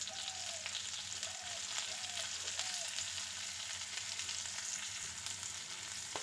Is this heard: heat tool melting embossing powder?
no